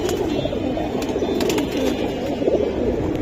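Silver giribaz pigeons coo steadily in a dense, overlapping murmur, a loft-full of birds sounding close and continuous with no break.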